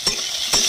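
Vegetables frying with salt and turmeric in a pan for a sukto-style dish, a brief hiss of sizzling with two quick scraping stirs, close and fairly loud.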